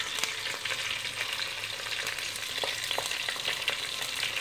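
Fish curry pieces hitting hot oil in a pan, a dense, steady sizzle and crackle with small spattering pops throughout, close and loud, with no voices.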